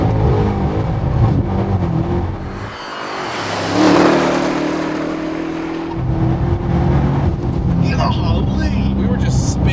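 A powerful twin-turbo Dodge Demon engine roars and whines as it revs hard during a rolling burnout, surging louder mid-way, with people talking over it.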